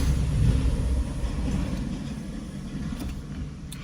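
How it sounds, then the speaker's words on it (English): A heavy truck engine rumbles low and loud, slowly easing off as it passes, with wind noise buffeting in the background. "More dump trucks."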